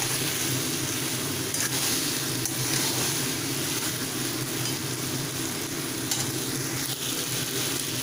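Malabar spinach chorchori, a vegetarian vegetable dish, fries in a pan as its liquid cooks off, giving a loud continuous sizzle mixed with stirring scrapes and bubbling throughout.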